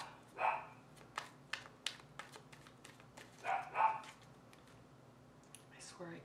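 Indoor dogs let out several faint, scattered barks and yips, with a couple of louder bursts early and in the middle, over a low steady hum, and a person speaks briefly near the end.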